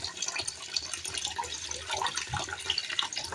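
Rohu fish washed under a running kitchen tap, the water a faint, steady splashing stream with small irregular splatters throughout.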